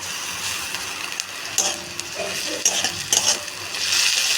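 Garlic paste frying with browned onions in a pan, sizzling under stirring clinks and utensil scrapes, a brief close burst of activity with no talk.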